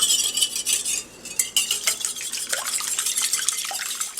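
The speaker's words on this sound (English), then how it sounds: "So I cracked 3 eggs into the mixing bowl. We're just going to whisk them together." Three eggs whisked briskly in a mixing bowl for muffin batter, giving quick, rhythmic metal-on-bowl clatters with a brief pause near the start; close and fairly loud, with no voices.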